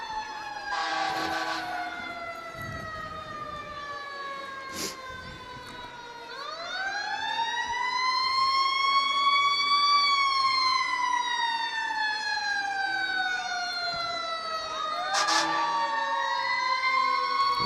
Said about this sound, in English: as you can hear now coming in the background, the sirens